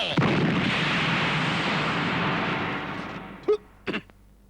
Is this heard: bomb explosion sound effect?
yes